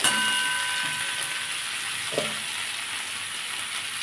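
Steady, fairly quiet sizzle of taro and ground spices frying in a pan, a continuous hiss with a few faint scrapes, no voices.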